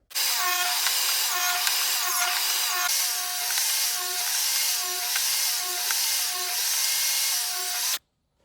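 A table saw rips wood strips an inch wide against the rip fence, with a loud continuous whine that dips in pitch with each strip fed through, close and steady until it cuts off.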